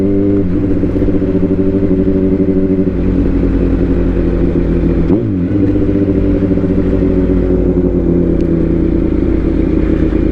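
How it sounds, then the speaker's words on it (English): A Yamaha R1 sport motorcycle ridden at speed, its engine a loud, continuous drone with a steady pitch that shifts briefly mid-ride, and no talking. "I'm riding your R1 out here"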